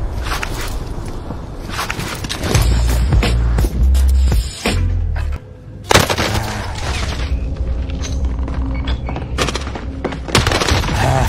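Bursts of gunfire and booming blasts in Call of Duty: Warzone on Rebirth Island over a steady background of music and effects, loud and continuous with a few sharp cracks.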